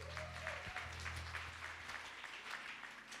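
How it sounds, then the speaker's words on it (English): Members of a church congregation clap for themselves during a service, a fairly quiet, continuous patter of many hands with faint rhythmic pulses and a low background hum. "Clap hands for yourselves."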